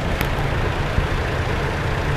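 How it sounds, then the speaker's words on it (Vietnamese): The engine of a 2015 Toyota Innova V idles smoothly with the bonnet open, an even, continuous low rumble with no misses, moderately loud and close, with a faint tick near the start. "Cái động cơ nổ tròn trịa lắm"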